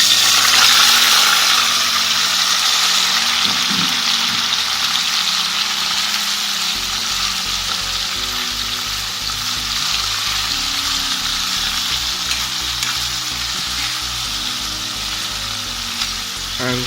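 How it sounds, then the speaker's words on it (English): Marinated chicken gizzards sizzle steadily in hot oil in a pot for brown stew chicken gizzard, with a loud continuous fry and occasional scrapes and clinks of stirring. "now it's time to put it in the pot. I have this oil here hot"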